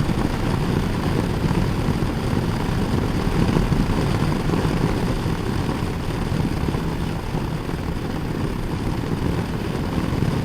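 A 2019 Harley-Davidson Sport Glide with a 107 engine drones steadily on a test ride, a continuous loud rumble mixed with wind roar and no clear changes in pitch.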